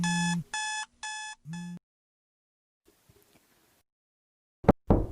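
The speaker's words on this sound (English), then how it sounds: "my screeching alarms didn't bother anyone" A screeching alarm clock rings in four loud, even bursts, then falls silent, and a couple of sharp knock-like thumps follow near the end.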